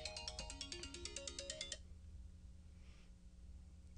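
A phone plays a melodic ringtone for an incoming call from an unknown caller, a bright run of rising and repeating tones lasting under two seconds, then quiet room tone.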